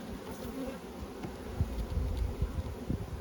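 Honeybees buzz steadily inside an outdoor apiary hive holding brood and a queen cell, a dense close hum with brief louder swells and faint handling knocks underneath.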